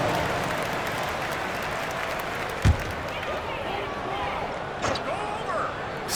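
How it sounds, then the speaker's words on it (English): Crowd in a basketball arena during a Utah Jazz versus Miami Heat game, with steady background applause and crowd noise, one sharp thump midway and another fainter knock later, under a commentator's voice. "Give yourself a round of applause."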